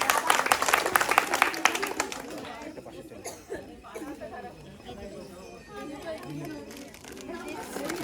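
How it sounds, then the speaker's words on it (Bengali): An audience claps and cheers for a consolation prize at a village drink challenge, a loud burst of applause at the start that thins out into chatter and children's voices. "সবাই একটু তালি হবে জোরে"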